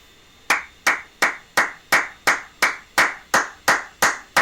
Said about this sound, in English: but here's my clapping.